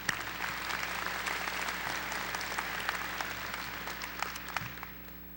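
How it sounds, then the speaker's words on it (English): Graduation audience applauding at a high school ceremony, a steady sustained wash of clapping from a large crowd with a few sharper nearby claps, tapering off toward the end. "So let's give Miss Maureen Rona a round of applause."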